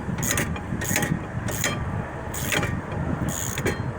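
Ratchet tightening a bolt on the rear brakes of a 2010 Chevy Impala: five bursts of rapid clicking, each about a third of a second, separated by short pauses against a steady background hum.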